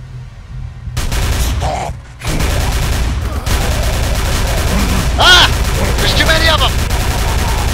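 Dense gunfire from a horde of enemies strikes the player in Call of Cthulhu: Dark Corners of the Earth, a sustained loud barrage with shouting voices cutting through it.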